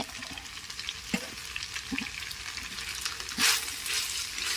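Spicy Thai stir-fried pork with cumin leaves in a pan, a soft steady sizzle broken by a few scraping stirs and a brief louder burst, quiet and close with no voices.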